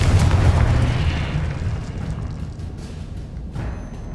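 Confringo blasting curse exploding in Hogwarts Legacy, a loud boom at the start that decays into a long rumbling tail, with a smaller burst near the end.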